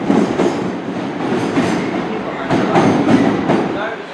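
A Class 444 electric train departing Bournemouth station on the main line, a loud close rumbling roar with repeated wheel clatter over rail joints as it gathers pace.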